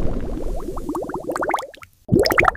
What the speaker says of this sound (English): The dish soap is trapping the gas bubbles, making it an extra bubbly, super foamy mess.